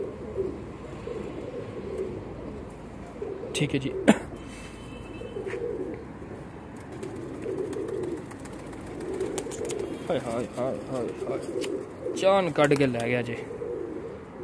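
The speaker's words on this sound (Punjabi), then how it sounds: "ਇਹ ਜ਼ੀਰਾ ਕਬੂਤਰ ਵੇਖੋ ਮਾਸ਼ਾਅੱਲਾ" Zira pigeons coo softly in the background with a few brief wing flutters, while someone talks over them at close range.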